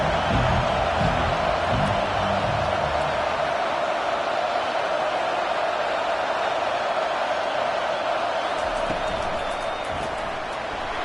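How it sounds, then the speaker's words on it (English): Football stadium crowd at an Oklahoma State versus Jacksonville State game roaring steadily on a third-down defensive stand, a loud continuous wash of cheering that holds level throughout, with some low thumping early on. "Decibels rising as the crowd gets behind this defense on 3rd down."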